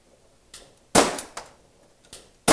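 Five or six sharp, snappy shots from a Tokyo Marui LCP compact gas airsoft pistol fired at uneven intervals, close and crisp, with quiet between them.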